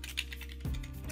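Brief burst of typing on a computer keyboard, quick soft key clicks followed by a thud, close and quiet with no talk.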